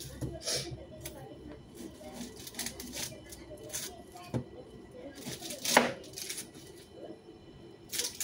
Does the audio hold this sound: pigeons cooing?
no